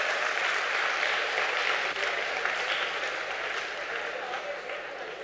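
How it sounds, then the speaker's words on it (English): Audience applause at a business session on entrepreneurship, a dense, steady wash of clapping from a large crowd that carries on without a break for the whole stretch and fades only slightly near the end. "it requires some applause at this stage."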